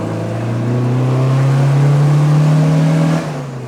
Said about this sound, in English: This is the classic B series. It's a straightforward push-on, all-iron, four-cylinder.